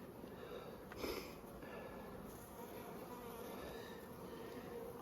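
Honey bees buzz around an open brood box during spring hive management, a faint steady hum with a closer buzzing pass, no talking.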